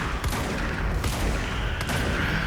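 Sustained gunfire from the Control video game rattles in rapid bursts, loud and dense, with sharp repeated shots layered over a rumbling low end and no talking.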